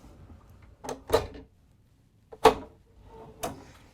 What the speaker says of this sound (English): I'm going to shut this door for you.